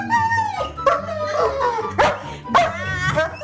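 A German Shepherd barks loudly at close range, giving four or five sharp, strident barks with whiny, yelping edges in an irregular rhythm, heard on its own.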